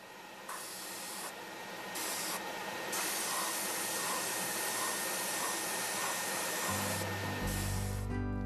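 An airbrush sprays cleaner through its nozzle for a colour change during model railway painting, a steady hissing blast that starts and stops in short bursts before a longer continuous spray, close and loud.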